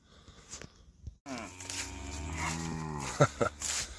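Cattle on a farm lane in Ireland moo loudly and close by, one long drawn-out bellow after a short quiet spell, followed by shorter calls and some shuffling.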